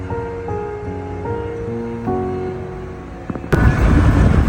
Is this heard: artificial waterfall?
yes